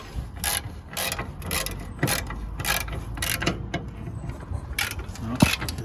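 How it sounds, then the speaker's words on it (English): A size 18 ratchet loosens a nut on a 2010 Skoda Octavia 1.6 TDI's lower track control arm, giving repeated close, sharp clicking ratchet strokes in an even rhythm. "It seems to come out by this way using a ratchet,"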